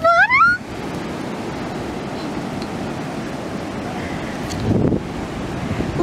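Steady broadband wash of surf and wind noise rolls on throughout, with a brief rising whistle-like chirp at the start and a swell of louder noise near the end.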